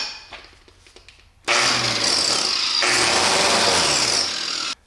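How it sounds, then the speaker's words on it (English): A grinder fitted with a wire brush rakes across an aluminum motorcycle fuel tank on a customized BMW S1000RR. It bursts into a loud, sustained abrasive whir after some faint handling knocks, holds steady for about three seconds, then cuts off. "I've got a wire brush on the end of this grinder, so I'm going to use that to try to scrape it or rake it."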